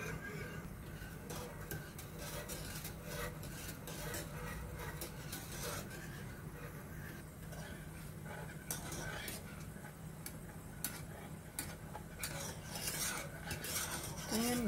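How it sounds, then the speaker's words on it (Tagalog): Spoon stirring a four-ingredient dessert mixture in a pot over low-medium heat, a steady run of light scraping clicks against the metal, quiet and close, with someone talking at times. "Haluin lang natin hanggang ito ay kumulo"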